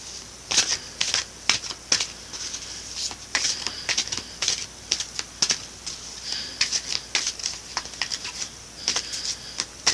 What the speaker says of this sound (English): I'm also going to pull 2 cards for you from the Sacred Rebels Oracle deck by Elena Fairchild.